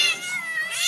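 Cats meowing continuously through the short stretch, a loud, close, drawn-out caterwauling cry with no talk over it.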